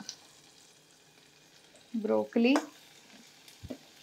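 Garlic and a small onion dropped into a hot pan for baby soup, giving two short bursts of sizzling frying about half a second apart, then a faint clink against a quiet kitchen background.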